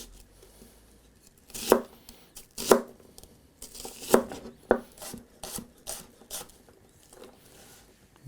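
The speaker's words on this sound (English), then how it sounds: "So we're gonna chop it not too super fine." A knife chopping an onion on a cutting board, with about a dozen irregular, close, crisp thuds and rustles spread over several seconds and no talking.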